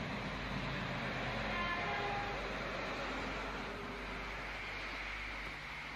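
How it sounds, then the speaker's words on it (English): A British Rail multiple unit train rolls into a station platform with a steady, moderately distant rumble and rail noise, holding at an even level throughout with no one talking. "As a new BR multiple unit arrives on platform 3."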